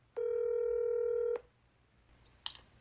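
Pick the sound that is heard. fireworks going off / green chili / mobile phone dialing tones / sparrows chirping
mobile phone dialing tones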